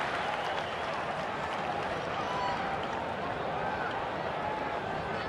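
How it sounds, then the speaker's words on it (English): Baseball crowd at Wrigley Field applauding as a visiting player heads back to the dugout: a steady, dense wash of clapping and cheering from a large stadium audience, sustained and even throughout. "giving him a nice round of applause as he heads back into the dugout"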